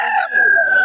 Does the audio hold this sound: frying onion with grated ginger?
no